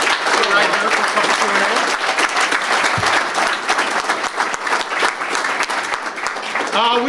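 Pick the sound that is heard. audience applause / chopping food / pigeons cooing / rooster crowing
audience applause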